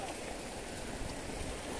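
A mountain stream in the hills runs in a continuous, even rush of water, close and moderately quiet, a steady wash with no distinct splashes.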